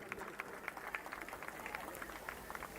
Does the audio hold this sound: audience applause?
yes